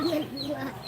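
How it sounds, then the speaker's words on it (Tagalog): Birds swimming on water give brief clucking, fowl-like calls, faint and somewhat distant over a steady outdoor background. "mga ibon na lumalangoy"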